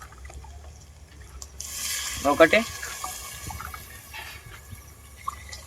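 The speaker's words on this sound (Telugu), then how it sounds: "10 గ్లాసుల వాటర్ అయితే పోసుకోవాలి." Water is poured from a glass into a cooking pot during village-style outdoor cooking: a brief splashing gush, with a voice counting quietly nearby.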